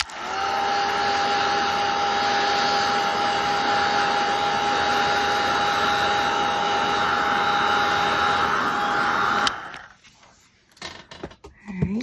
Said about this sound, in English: if I hit it with the heat tool